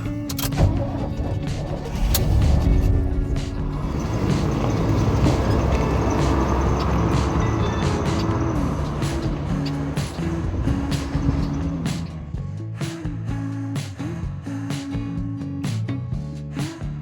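A truck rolls along the road with a steady, loud low rumble of engine and road noise, punctuated by clicks and rattles from the cab, with no one talking.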